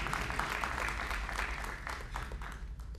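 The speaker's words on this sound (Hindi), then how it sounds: "तालियां थोड़ी कम बजी." Summit audience applause at the Heli-India Summit in Srinagar, a moderate, steady round of clapping heard from within a hall, with a low hum underneath.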